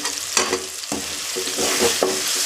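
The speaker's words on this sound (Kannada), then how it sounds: "ಟೊಮೆಟೊ ಚೆನ್ನಾಗಿ ಫ್ರೈ ಆಯಿತು" Tomatoes frying in a pan for Uttar Karnataka-style tomato fried rice, a loud close sizzle broken by several quick stirring scrapes, with no voices.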